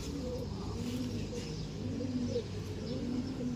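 A breeder bird in a loft coos softly in repeated low, rolling phrases, about three calls over a few seconds against a steady background hiss.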